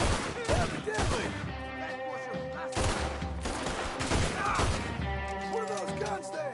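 Rapid gunfire in Red Dead Redemption 2, with bursts and cracks of shots running throughout, dense and fairly loud, with a voice speaking through part of it.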